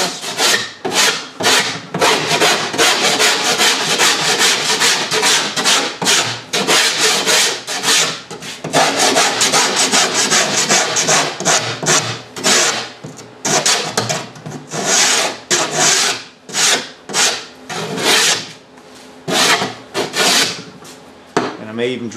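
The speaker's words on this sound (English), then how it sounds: "give it a quick rasp" A rasp files wood in quick repeated strokes, a rough scraping rhythm with short pauses, close and fairly loud.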